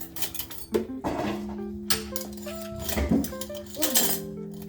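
A spoon clinks and scrapes against ceramic dishes several times, bright ringing taps spaced irregularly, close by in a quiet room.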